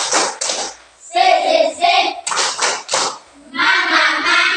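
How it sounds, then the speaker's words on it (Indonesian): Group of children performing the 'tepuk semangat' clapping chant at an icebreaker, bursts of sharp hand claps alternating with sung, chanted syllables in a steady rhythm, loud and close. "Tepuk semangat."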